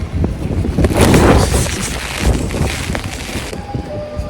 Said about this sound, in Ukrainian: Нас трошки перервав вітер.